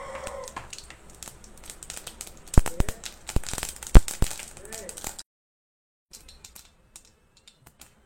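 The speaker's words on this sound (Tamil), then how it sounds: "கடுகு பொரிஞ்சிடுச்சு." Mustard seeds splutter in hot oil for a rasam, giving sharp crackles and pops of varying loudness up close, then falling nearly silent with a few faint late pops.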